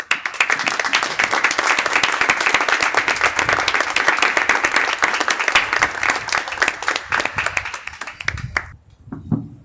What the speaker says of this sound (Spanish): queríamos también cerrar esta primera parte de la actividad con un aplauso